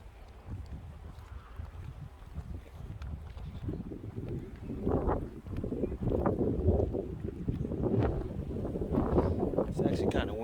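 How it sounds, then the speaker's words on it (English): Strong wind buffeting the microphone at Pali Lookout on O'ahu, Hawaii, a steady low roar with gusts building louder toward the end, close and continuous. "It's actually kind of windy up here."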